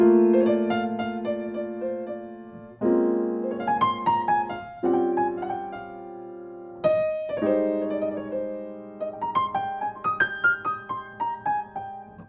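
Piano chords played in several voicings, struck in groups with quick melodic runs over them, close and clean with no voices.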